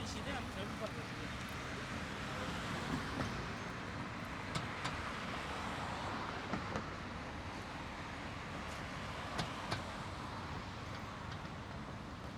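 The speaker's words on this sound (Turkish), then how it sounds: "Trafik patlatıyor." Road traffic flows along the Üsküdar coast in Istanbul, a continuous roar of passing cars and buses with occasional sharp clacks, while people converse nearby throughout.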